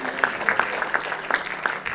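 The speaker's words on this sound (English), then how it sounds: "Why don't we give the Lord a hand clap of praise here today?" A church congregation claps in praise during a sermon, a sparse, loose handful of sharp claps scattered unevenly across a couple of seconds against a quiet room.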